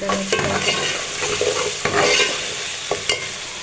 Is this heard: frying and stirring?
yes